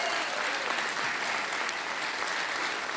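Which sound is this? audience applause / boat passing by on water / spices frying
audience applause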